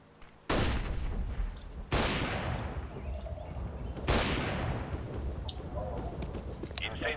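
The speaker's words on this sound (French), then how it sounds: "Throwing flashbang." A flashbang grenade in the video game Counter-Strike, on the Cache map, three sharp loud bursts, each followed by a ringing decay, spaced about two seconds apart with faint game noise in between.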